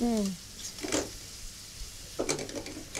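Onions frying in a pan over medium flame until golden brown, a steady low sizzle with a few scraping stirs; a brief voice sounds at the very start.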